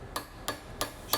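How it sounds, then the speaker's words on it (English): A hammer taps a punch into a Jarvis 50D-1 beef dehorner during maintenance: four crisp, evenly spaced metallic taps, close and moderately loud, with no voices. "Just tap that in."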